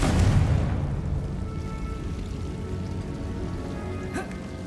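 A Confringo fire spell bursts in Hogwarts Legacy with a loud, low blast at the start that fades into a long rumbling, crackling tail, and a brief sharp flare comes near the end.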